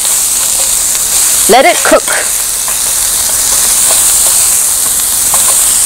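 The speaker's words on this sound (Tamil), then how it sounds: "ஸோ வெங்காயம் நல்லா வதங்கி கொண்டு வருது பாருங்க" Sliced onions sauté for chicken kothu parotta in a Tamil street-food style pan, giving a steady close sizzle and hiss throughout, with a brief voice speaking partway through.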